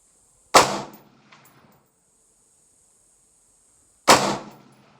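Two sharp rifle gunshots firing Hornady Black 62 grain FMJ ammunition, spaced about three and a half seconds apart, each a loud close crack with a brief ringing decay, nothing else in between.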